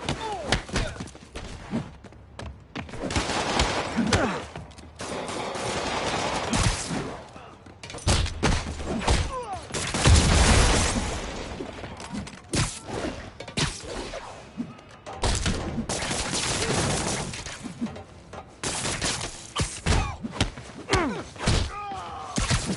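Gunfire and heavy impact thuds from a fight in the video game Marvel's Spider-Man, dense bursts of shots and thumps throughout with game voices mixed in.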